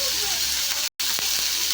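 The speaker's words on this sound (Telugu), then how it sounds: "ఒక 5 నిమిషాలు మీడియం ఫ్లేమ్లో వేయించుకుందాం." Ivy gourd pieces frying in a pan over a medium flame, giving a steady, close sizzle with a brief gap partway through and a few faint clicks of stirring.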